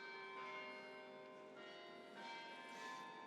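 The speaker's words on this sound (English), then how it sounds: "I'll pause for the bells." Church bells ring in Dublin during a tech summit talk, a sustained metallic peal with layered overlapping tones, fairly faint and distant, with no voices over it.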